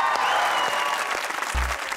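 Brief burst of studio audience applause on a comedy talk show, welcoming guest Adeel Chaudhry as he walks on, with a thud near the end.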